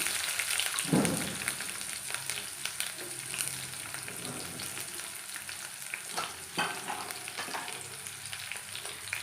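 Onions fry in hot oil with mustard seeds, cumin and fenugreek, a steady close sizzle with occasional stirring scrapes and pops.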